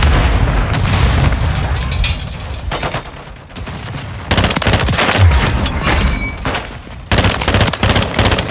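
Grenade blast amid a Call of Duty Modern Warfare 3 multiplayer firefight, heavy booms and rapid machine-gun bursts loud and close, with sharp bangs breaking in partway through.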